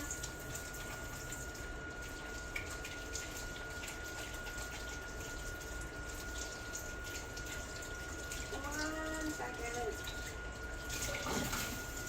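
A tap runs steadily as hands are washed at a kitchen sink, a constant rushing flow of water close by for the whole stretch, with a brief clatter of splashing near the end.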